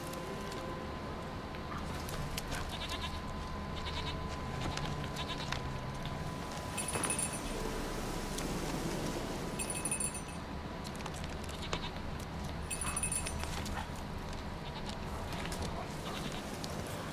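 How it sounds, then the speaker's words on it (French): In The Witcher 3 video game, goats bleat in short, faint calls, repeated several times at a distance over a steady, busy outdoor ambience, with no talk. "J'entends une chèvre."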